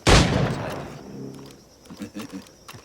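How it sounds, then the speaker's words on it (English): A loud gunshot from a period firearm in Assassin's Creed IV Black Flag, one sharp blast with a long ringing decay, followed by faint game sounds. "Pull off a few shots if you like, get a feel for it."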